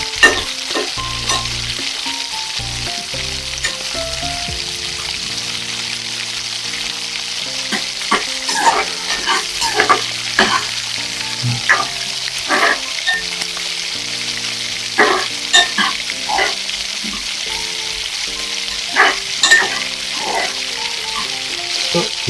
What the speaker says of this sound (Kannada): ಇದನ್ನು ಸ್ವಲ್ಪ ಗೋಲ್ಡನ್ ಬ್ರೌನ್ ಆಗೋವರೆಗೂ ಹುರಿಯುವ.